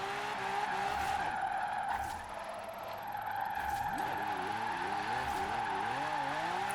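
Rear-wheel drive car sliding in Forza Horizon 4, with sustained tire squeal and skidding over a steady engine drone, the pitch wavering as the slide continues for several seconds.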